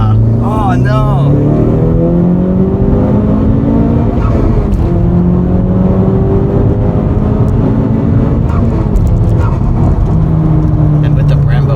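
A Honda Civic Type R engine pulls hard under acceleration, a loud, steady droning rev climbing through gears from inside the cabin, with road and wind noise blending in and no talk over it.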